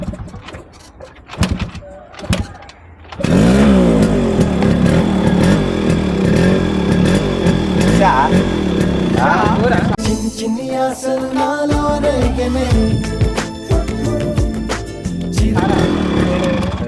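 A Yamaha RX100 motorcycle is kicked over with a few clunking strokes, then fires up and revs loudly nearby, its rough engine note rising and falling over the rest.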